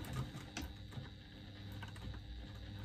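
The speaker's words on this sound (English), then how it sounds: "So I'm just back stitching a couple of stitches" A sewing machine back stitches a couple of stitches on a slip pocket, a faint quick run of mechanical ticking and whirring, close and quiet, with no talking.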